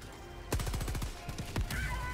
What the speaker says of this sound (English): No, it's mortars.